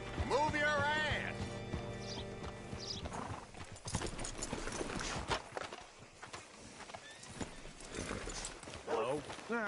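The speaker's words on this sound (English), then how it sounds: "Hitch your horse up here." Horse hooves clip-clop steadily in Red Dead Redemption 2, with a brief whinny early on and people talking over the footsteps.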